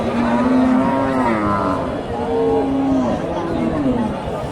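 A dairy cow lows loudly at a busy cattle market, two long drawn-out moos close by over steady crowd chatter.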